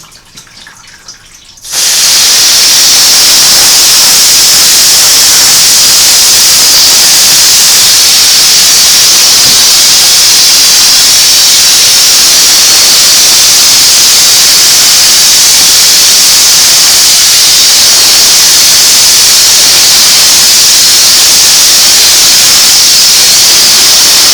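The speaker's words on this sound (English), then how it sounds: "So I usually spray an area until I don't see what I call the foam or the soap bubbles anymore." A loud, continuous hiss of foaming cleaner spray on a Singer 404 sewing machine body starts abruptly after a quiet moment and holds steady, close and unbroken, with no talking.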